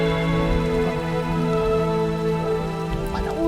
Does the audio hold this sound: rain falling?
yes